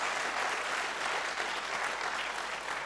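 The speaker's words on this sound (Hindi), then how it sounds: "हम लोग उनके लिए एक जोरदार जबरदस्त तालियां देना चाहिए" Dense, steady applause from a conference audience in a hall, a continuous wash of many hands clapping throughout with no talk over it.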